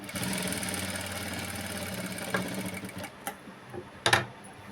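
A sewing machine runs steadily, stitching a prince cut blouse at a close, even hum, then slows and stops with a few clicks toward the end.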